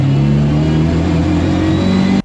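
A Mk2 Ford Escort fitted with a Mk3 Focus RS 2.3 EcoBoost engine revs steadily and loudly close by, its deep, even engine note holding for about two seconds before cutting off abruptly.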